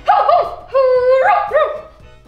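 A dog in a home gives a few short, yelping barks and whines in quick bursts, close and fairly loud, with no talk over it.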